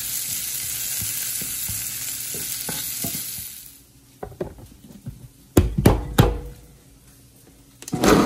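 Onions and garlic sizzle loudly in a pan for several seconds, then the frying noise drops away and a few sharp knocks and clunks of utensils on the pan follow, close by.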